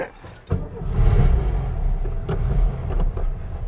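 A 1967 VW Beetle, a daily driver, idles and runs with a steady, close low rumble and a few small clinks and rattles near the start.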